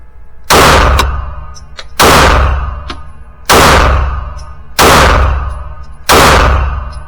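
Five loud, close pistol shots from a Canik METE SFT handgun at a range, spaced about one and a half seconds apart, each a sharp bang with a ringing decay.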